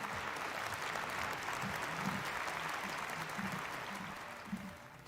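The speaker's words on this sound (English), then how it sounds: "Please welcome them with a big round of applause" A big round of applause from the audience at the 2022 Sunhak Peace Prize ceremony, steady crowd clapping heard alone at moderate volume for several seconds.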